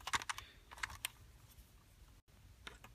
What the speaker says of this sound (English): feed it in until you hear it click a couple times